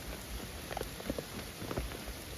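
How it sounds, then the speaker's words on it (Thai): Steady rain patters on a surface, a continuous hiss with scattered individual drops standing out, no voices. "แล้วฝนก็ตกด้วย"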